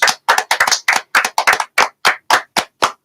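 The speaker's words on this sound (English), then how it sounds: "Let's give everybody a round of applause." Clapping at a live baseball talk show, but only one or two pairs of hands are heard close up, giving about a dozen crisp, separate claps in a quick, slightly uneven rhythm with silence between them.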